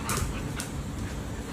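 A puppy gives short yips and whimpers, close and fairly loud, in a brief burst without talking.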